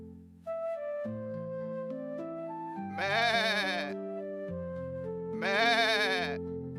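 Two distinct sheep bleats, each lasting about a second, ring out over a gentle stepping background tune in a shepherd's tale of grazing sheep in the forest.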